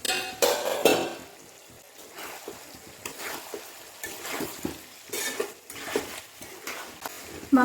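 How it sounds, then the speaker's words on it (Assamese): Duck meat being stirred and fried over a low flame in a pan, with intermittent scraping and clinking of a utensil against the metal and a faint sizzle underneath, in close, irregular bursts. "মাংসখিনি কম জুইত খুব ধুনীয়াকৈ আগতে ভাজি ল'ব লাগিব"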